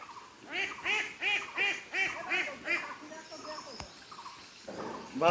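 Geese on a small pond give a run of regular, nasal honks, several in quick succession, fairly close, with a few softer calls and a sharp knock near the end.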